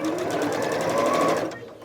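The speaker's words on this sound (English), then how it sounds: "Sewing that on the diagonal." Sewing machine stitching fabric on the diagonal while piecing a quilt block, a steady close, fast mechanical whir with a rapid stitch rhythm throughout, slowing near the end.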